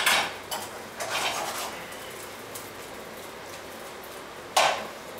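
Vegetables tossed in sauce in a pan: a few sharp metallic clatters and scraping rattles spaced across a few seconds, with quieter cooking noise between them and no talking.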